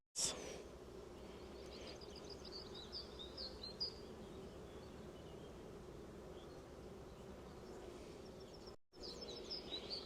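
Honeybees buzzing at a hive during an inspection, a low, steady hum that continues throughout, with faint bird chirps above and a brief dropout near the end.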